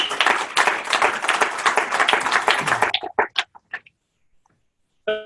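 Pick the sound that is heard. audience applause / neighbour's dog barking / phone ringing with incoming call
audience applause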